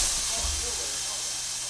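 A burger taco sizzles on a hot griddle, a steady close hiss of frying meat that holds level throughout with no pauses.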